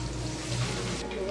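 Green chillies and curry leaves sizzle steadily in hot oil for a prawn masala, a close, continuous hiss and crackle under a voice speaking.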